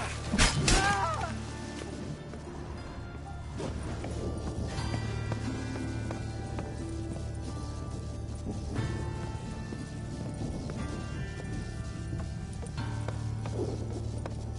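Rhythmic horse hoofbeats clatter steadily amid busy game sounds in The Witcher 3, with a sharp crash at the start and a constant low hum underneath.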